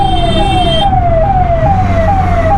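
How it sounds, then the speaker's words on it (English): An ambulance siren wails through road traffic, a loud repeating falling tone cycling steadily and close by over engine rumble, with no talking. "Let's try and help the ambulance a little bit."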